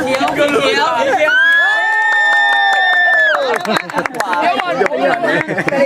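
A crowd of supporters split into green and white teams cheers and shouts loudly at a team game, with whoops, a sustained chant-like cry midway and overlapping voices throughout.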